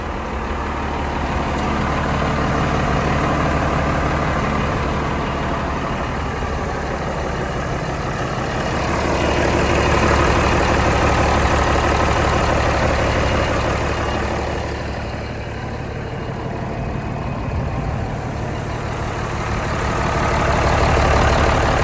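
A Komatsu WA380-3 wheel loader's diesel engine idles steadily and close by, a low continuous rumble with a slight rise and fall in loudness throughout.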